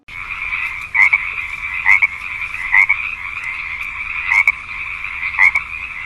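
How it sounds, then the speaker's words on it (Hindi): A frog croaks in a steady buzzing trill, close and clear, rising into about six louder rhythmic pulses roughly a second apart, alone with no voices. "इसके साउंड को इंग्लिश में क्रॉक कहते हैं और हिंदी में टरटराना।"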